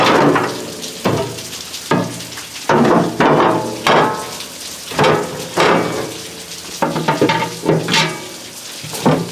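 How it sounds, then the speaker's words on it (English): Metal grill grates on a long, narrow grill are set back in place with a series of sharp clanks and scraping rattles, heard close up at an uneven rhythm. "Let me show you how these grates go back on."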